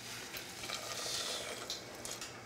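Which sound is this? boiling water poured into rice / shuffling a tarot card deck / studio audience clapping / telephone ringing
boiling water poured into rice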